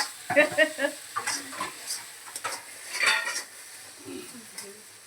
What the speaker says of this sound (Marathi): आता हे तेलात ते मसाल्यामध्ये चांगलं वाटाणा असं चांगलं छान परतून घेते